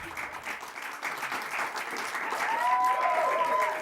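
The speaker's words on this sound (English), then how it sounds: "this is really awkward that you're clapping" A studio audience claps in a sustained, building round of applause with no break, growing slightly louder toward the end, where a thin whistle-like tone rises above it.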